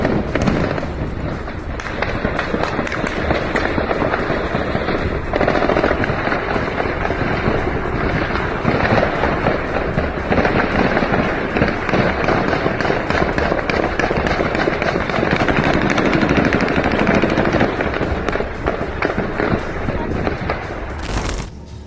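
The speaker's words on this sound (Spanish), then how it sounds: "fueron sorprendidos por el sonido de disparos en las zonas céntricas" Continuous rapid gunfire popping and cracking in town-centre streets of Zacapu, Michoacán, like sustained bursts, loud and dense for over twenty seconds with no pause.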